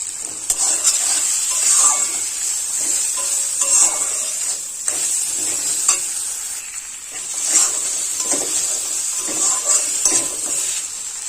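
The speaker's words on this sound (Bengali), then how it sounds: "এবার কিন্তু খুব ভালোভাবে নাড়াচাড়া করে কষাই করে নিতে হবে" Spices sizzle in a hot pan for a potato and red amaranth stem dish, a continuous close hiss broken by repeated scraping stirs of the spatula.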